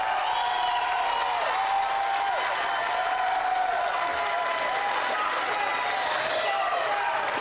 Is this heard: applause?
yes